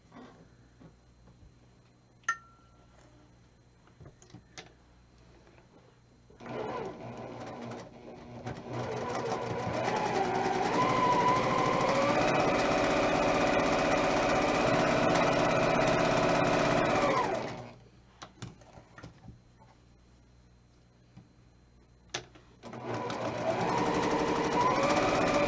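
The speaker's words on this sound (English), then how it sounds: "And then we're going to sew these 1/4 inch on either side." A sewing machine stitches quilt fabric pieces a quarter inch from the edge, running steadily for about ten seconds with a loud mechanical whir, then stopping and starting again near the end.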